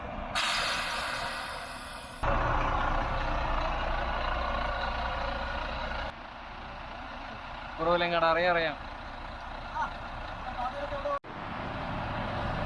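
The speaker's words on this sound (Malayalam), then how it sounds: "വണ്ടി സ്റ്റാർട്ടിങ്ങിലാണ്" Engine of an Aura Connect night-service bus on the Chennai to Kochi run idling at start-up, a low steady rumble with abrupt level shifts and a brief hiss, while a person speaks nearby.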